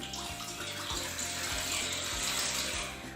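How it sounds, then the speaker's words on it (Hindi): Two glasses of water are poured into a cooking pot, after rice is boiled, for mutanjan sweet rice. The pour is a continuous close splashing gush lasting about three seconds. "चावल बॉईल करने के बाद अब हम पतीले में लेंगे 2 गिलास पानी"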